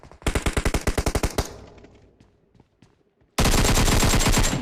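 Automatic gunfire in the mobile shooter PUBG Mobile, a rapid loud burst of evenly spaced shots that tails off into echo, followed by a second sustained burst.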